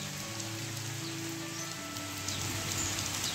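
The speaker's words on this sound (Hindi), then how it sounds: "काफ़ी देर तक बारिश हो रही है अभी भी कंटिन्यू चली रही है बारिश" Steady rain falls in a village, a continuous broadband hiss of drops on surfaces with a few faint tonal hums beneath, fairly close and unbroken by speech throughout.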